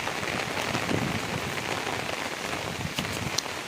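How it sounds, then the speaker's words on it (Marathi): Heavy rain pours down steadily, a loud, dense, even hiss of drops on surfaces nearby with no voices. "पाऊस पण खूप जोराचा चालू आहे."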